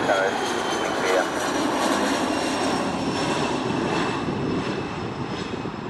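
A Dassault Falcon 900 business jet at KORL airport, its engines producing a loud, continuous roar with a steady high whine on top that holds for the whole stretch, with radio talk faintly underneath.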